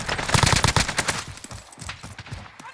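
Rapid bursts of gunfire in an online shooter video game, a dense cluster of loud cracking shots early on, then thinner, scattered reports trailing off.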